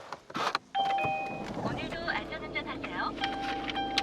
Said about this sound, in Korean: 디젤 차량답게 굉장히 우렁차게 시동 걸리고 있는 차량이고